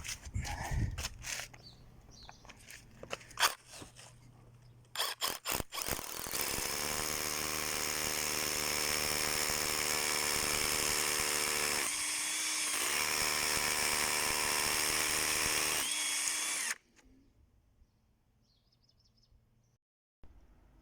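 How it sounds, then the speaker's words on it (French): An AEG BBH18C cordless rotary hammer drills an 8 mm hole into a concrete pillar, a loud sustained whining hammering burst after a few short starts, then cutting off into quiet. "Perçage en diamètre 8 dans un pilier en béton."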